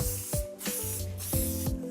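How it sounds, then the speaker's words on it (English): Several short hissing bursts of hairspray, four or five quick sprays in an uneven rhythm, close and fairly soft. "So what I'm doing is just spraying the hair"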